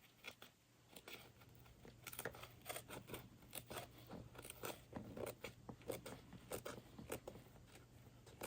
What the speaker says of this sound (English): Snipping along the curve of the bottom.